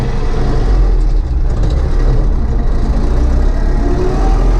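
A T-40 tractor engine runs steadily while two tractors plough a field, giving a loud, continuous low rumble that holds at an even level with no voices.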